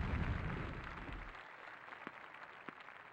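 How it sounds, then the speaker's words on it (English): A bomb blast from the N64 game All Star Tennis '99 opens loud and rumbling, then fades over a second or so into quieter game noise with a couple of brief pops. "Cool tennis players don't look at explosion."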